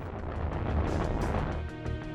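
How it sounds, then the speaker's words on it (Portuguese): A sudden oxygen tank explosion aboard the Apollo 13 spacecraft in 1970, heard as a dense, sustained roaring blast with rumbling low end and crackling bursts over about two seconds, loud and close. "um tanque de oxigênio explode de repente"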